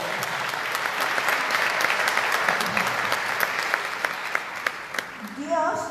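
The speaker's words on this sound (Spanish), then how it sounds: "¡Venga el aplauso!" Congregation applauding inside a church during a Sunday Easter-season Mass, steady dense clapping from a large group that carries on for several seconds before thinning out at the end, when a voice begins.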